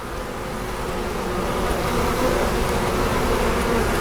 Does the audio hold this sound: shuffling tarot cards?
no